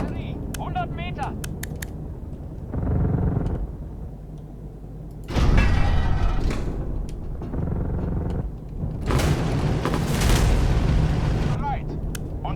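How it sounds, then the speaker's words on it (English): Mortar shells bursting in the Eastern Front tank game Tank Squad, a series of heavy rumbling blasts and sustained booms with game sound and someone talking in between. "The mortars aren't done yet. They're coming."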